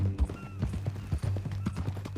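Hooves clip-clop steadily from a horse in the Red Dead Redemption 2 video game, a rhythmic series of dull thuds over a dense, low background of game ambience and music.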